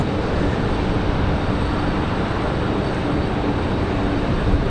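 A C-130 military transport aircraft at RDU airport makes a dense, unbroken engine roar, loud and close, with gusty wind noise mixed in throughout.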